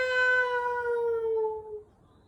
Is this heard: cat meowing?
yes